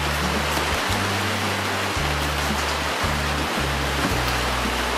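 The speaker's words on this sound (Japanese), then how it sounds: "ポリカ張ってあるだけなんで、雨の音がかなりすごいです。" Heavy rain drums steadily on a polycarbonate-panelled roof over a steel-pipe storage shed, a loud continuous wash with a deep resonant rumble underneath and no talking.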